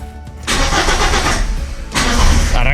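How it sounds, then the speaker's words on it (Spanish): A car engine cranks and fires up powered only by a Topdon JS3000 jump starter with no battery connected, settling into a steady, loud idle close by with no talking. "Fijaos, fijaos cómo arranca, Estamos sin batería, solamente con el aparato"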